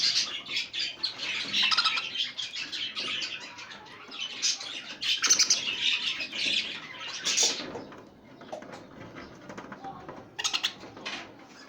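Several birds squawking and chattering in repeated harsh bursts, fairly close, with short quieter gaps between calls, as new birds are placed among older ones.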